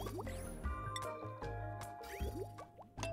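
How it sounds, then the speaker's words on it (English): Water being released in the game Oxygen Not Included, a quiet stream of liquid drips, plops and squishy splashes over a steady low hum. "Water gets released."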